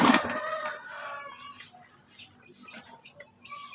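Chickens, among them Brahma birds, cluck and squawk close by in a feeding pen, with a brief crow-like call at the start, then scattered softer clucks and calls.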